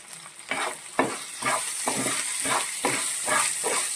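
Ground spices, asafoetida and fenugreek powder roast in oil in a pan for a bitter gourd pickle, with a soft sizzle and about eight rhythmic stirring scrapes of a spoon, close and clear.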